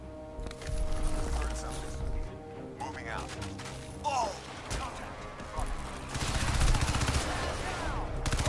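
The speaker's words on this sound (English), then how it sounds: "Suppressing fire." Gunfire in Crysis 2 comes as repeated bursts and clattering shots amid game effects and whooshes, growing denser toward the end, with voices speaking over the action.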